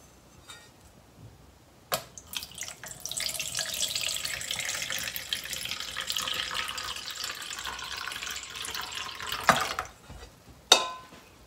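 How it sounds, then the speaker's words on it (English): Water being poured away from a bowl of soaked beans while making koshian, a steady splashing stream into a sink for several seconds, ending with a couple of clinks. "So throw the upper water away."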